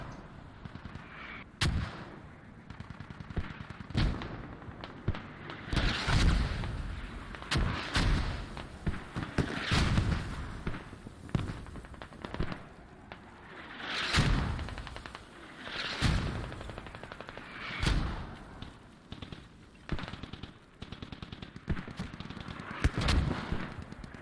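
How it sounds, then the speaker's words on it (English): Mortar rounds landing in the game Squad on the Kokan map, a series of heavy booming impacts and blasts scattered across the stretch, with near and distant gunfire crackling between them. "Those mortars at the centre of the screen now, they must be the Husaria mortars"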